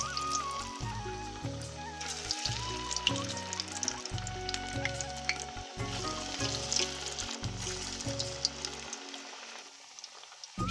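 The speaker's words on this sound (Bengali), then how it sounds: "এবার আমি ধনেপাতার চপটা আর ঝাল বড়াটা ভেজে নেব।" Coriander chops and spicy jhal bora fritters frying in hot oil, a steady crackling sizzle heard close under background music, running continuously.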